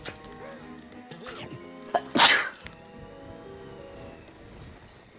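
A single sharp sneeze bursts out close by, loud and sudden, amid quiet background tones and faint rustling.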